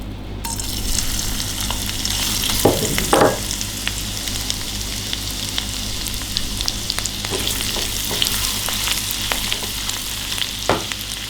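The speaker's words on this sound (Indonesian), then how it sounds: "bumbu yang tadi kita haluskan ini ada cabai-cabean ini kacangnya udah kita halusin kita tumis mau kita masak" Ground chili and peanut spice paste sautés in a pan, a constant loud sizzle broken by several sharp scraping stirs.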